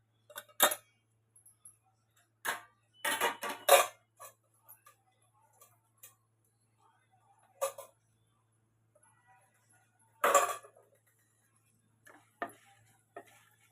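Urad dal, chana dal and cumin dry-roasting in a pan for a amaranth-leaf and toor dal curry powder, heard as scattered soft ticks and scraping stirs in short bursts, fairly quiet with no talk.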